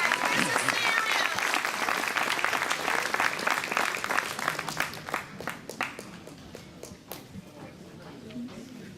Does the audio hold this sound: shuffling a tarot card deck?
no